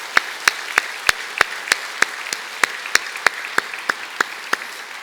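At a Friday worship service, a congregation claps in slow, evenly spaced, sharp beats, about three per second at first and easing slightly, loud and close with a soft crowd wash between the strikes.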